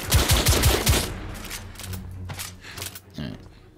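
Gunshots in The Order: 1886 ring out in a rapid, loud cluster of close revolver fire at the start, then fade into softer, scattered reports and a closing thud.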